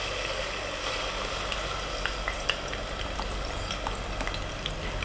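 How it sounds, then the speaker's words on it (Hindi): Ground onion frying in a quarter cup of oil in a pan, a steady dense sizzle with a few small crackles and pops, close and continuous, no speech. "प्याज को हम 5 मिनट फ्राई करेंगे"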